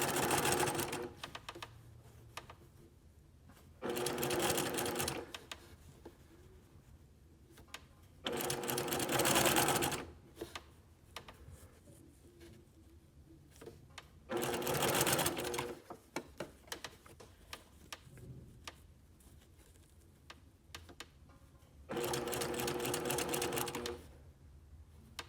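A sewing machine stitches bias binding onto a neckline in four short bursts of rapid whirring, each a second or two long, separated by quiet pauses.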